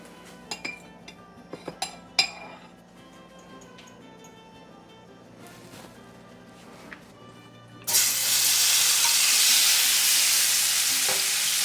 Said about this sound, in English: Now we're gonna cook our shrimp. We're gonna add a little coconut oil.